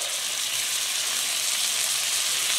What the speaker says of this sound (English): Then we take the steak, pick it up, turn it over. How do you like that sear?